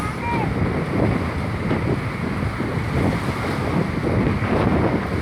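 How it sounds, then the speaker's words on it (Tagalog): Strong seaside wind buffets the microphone in a steady roar at Batangas, with the wash of surf beneath and a voice faintly audible in the mix. "Napakahangin."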